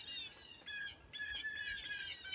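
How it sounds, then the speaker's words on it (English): Birds chirp and squawk nearby in bright, repeated bursts, with short pauses between calls and no voices. "And I hear these birds and how wonderful."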